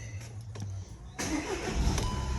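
A SEAT Leon cranks and fires up, a short starter whirr followed by the engine catching and settling into a steady idle, close by with no talking.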